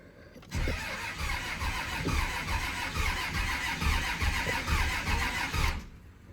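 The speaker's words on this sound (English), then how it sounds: "we're going to start cranking it until we get fuel out of our lines and tighten them up" A Cummins VP44 diesel engine with new valve springs, pushrods and injectors cranks steadily with a rhythmic, pulsing starter churn for about five seconds, close and moderately loud, with no one talking.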